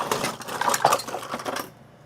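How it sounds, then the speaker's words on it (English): Metal cutlery clinks and rattles as a tablespoon is grabbed from among other utensils in a home kitchen during cooking, a busy cluster of close, bright clatter lasting about a second and a half before stopping. "I grab a different tablespoon."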